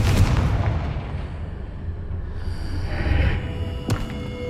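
A Confringo fire spell from the Hogwarts Legacy video game bursts out loud with a booming, thudding blast, followed by a rumbling tail and a sharp crackle near the end.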